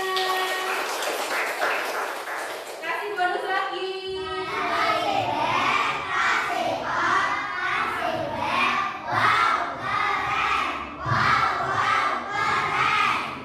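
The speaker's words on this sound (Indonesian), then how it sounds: "Kasih tepuk tangan." Schoolchildren in an Indonesian classroom clap and cheer together after a classmate's answer, a loud, sustained burst of mixed clapping and shouting voices that fills the room.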